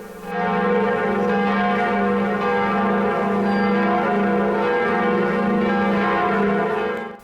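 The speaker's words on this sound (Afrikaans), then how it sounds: "Die klokke van die Notre-Dame-kathedraal het vir 'n paar minute in Parys gebeier" The bells of Notre-Dame cathedral in Paris ring out in a loud, sustained peal, overlapping strokes merging into a continuous, resonant wash for several seconds.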